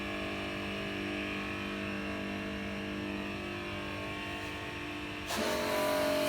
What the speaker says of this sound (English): the engine's actually running, but it stinks of petrol in here